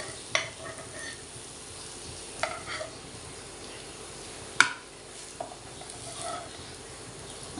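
Corn cutlets frying over medium heat in a pan as they are flipped, a steady soft sizzle broken by a few sharp clicks and scrapes of a spatula against the pan.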